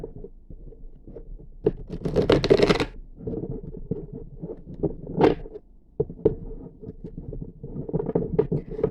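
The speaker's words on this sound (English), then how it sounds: "Let's give that one more shuffle." A deck of tarot cards is shuffled, with one dense riffling burst followed by softer taps, thumps and handling sounds of the cards.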